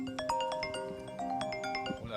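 A short, bright ringtone melody sounds at close range for about two seconds. It plays a quick run of clear electronic notes, alone and unaccompanied.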